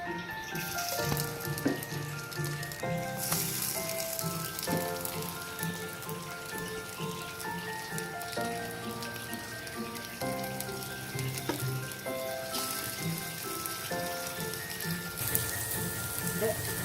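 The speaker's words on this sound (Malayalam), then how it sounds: "അപ്പുറത്തെ സൈഡും ഒന്ന് റോസ്റ്റ് ആയിക്കോട്ടെ." Egg-dipped bread slices frying in a pan for French toast give a steady, crackling sizzle throughout, close and moderately quiet, with soft tonal music in the background.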